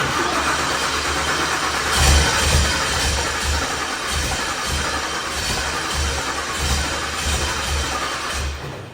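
LS V8-swapped snowcat engine cranking over at first start-up, a loud, close, uneven churning with rhythmic pulses and no clear settled idle.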